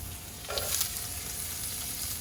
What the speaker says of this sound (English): Add a little more oil for the shallots and our carrots.